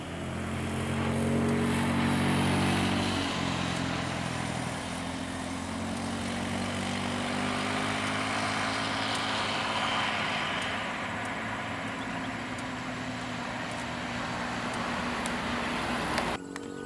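NPM, Al Hijrah and Sembodo buses pass one after another on a road heading to West Sumatra, a loud, continuous engine roar and tire rumble that swells early on, then holds as a steady drone of nearby traffic.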